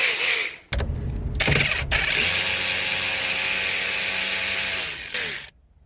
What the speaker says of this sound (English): Okay, guess I'll use a ratchet.